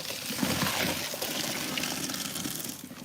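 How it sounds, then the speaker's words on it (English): Cooking water from a pot of boiled corn is poured off into a colander in a home kitchen. It makes a steady close rushing gush of splashing water that runs for about three seconds and eases slightly at the end. "I'm gonna get my colander, and I'm just gonna pour off some of this water from my corn"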